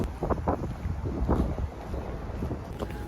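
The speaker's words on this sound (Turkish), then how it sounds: "Okul çok esiyor." Strong wind buffeting the microphone on a grassy university campus, a steady low roar with gusty surges throughout the short stretch.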